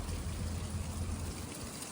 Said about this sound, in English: I wanted to refill my water stock